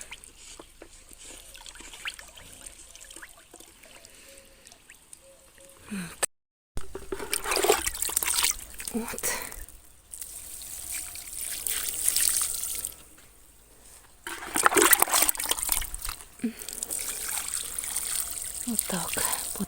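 Water solution poured from a ladle onto garden plants, splashing and trickling in bursts with pauses between, fairly close, with a voice speaking in places.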